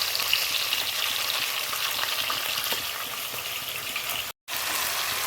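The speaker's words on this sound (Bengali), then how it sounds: "এইদিকে আর এক রকমের মাছ ভাজা হচ্ছে" Pieces of rohu fish fry in hot oil, giving a loud, steady, crackling sizzle that holds at an even level, with one brief drop to silence near the end.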